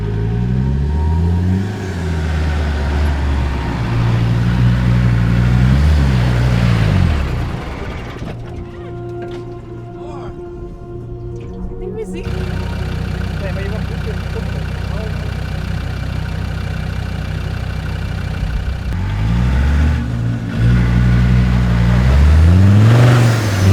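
A 4x4 engine revs hard while climbing Sahara sand dunes in Tunisia, loud and close, the pitch rising and falling in surges, easing to a calmer running stretch in the middle before roaring up again.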